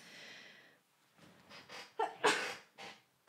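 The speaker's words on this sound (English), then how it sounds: "There I go with sneezing again." Someone sneezes close by indoors, with a few sharp bursts and snorting breaths following one another after a softer breathy lead-in.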